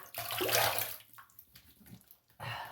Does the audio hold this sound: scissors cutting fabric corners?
no